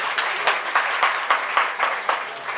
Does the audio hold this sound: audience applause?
yes